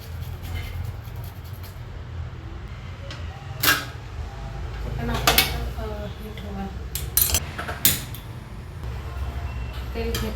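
Raw bananas sliced by hand for chips, with a few sharp, scattered knife clicks and taps standing out over a steady low kitchen hum.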